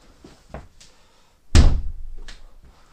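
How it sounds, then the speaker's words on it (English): An indoor door in a library room is swung shut with a solid, loud thunk, preceded by a few soft handling knocks and followed by faint rattles, close by. "Let me close the door here."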